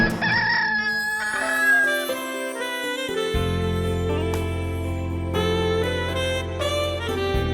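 A rooster crows loudly and close by, one long drawn-out call, then steady music with sustained tones and chimes carries on.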